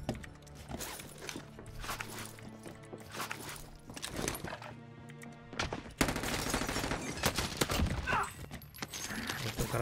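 Gunfire in Call of Duty Warzone, an enemy shooting from above: rapid bursts of shots, some clustered and some spaced, set against game ambience and music, growing denser and louder in the final seconds.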